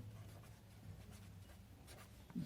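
Pen or pencil writing on paper during a physics lesson, a faint, steady scratching alone at close range, with a soft knock at the end.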